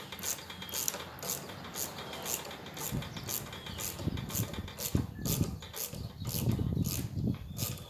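Ratchet wrench turning a nut on a Honda water pump, giving a long run of quick, regular clicks close by, with some clunks and rustling of handling.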